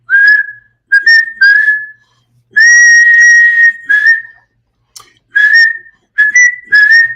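A person whistles a melody in short phrases with pauses between them, clear and close, no talking.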